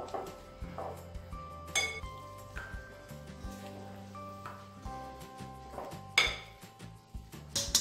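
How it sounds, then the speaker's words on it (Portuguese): Boiled potatoes being mashed in a pot for purée, with repeated knocks and metallic clinks of the masher against the pot at an uneven rhythm. "Amasse bem as batatas."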